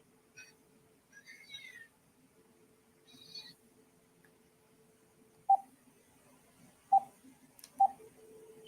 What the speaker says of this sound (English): I'm gonna dial you from my other phone and put you on speaker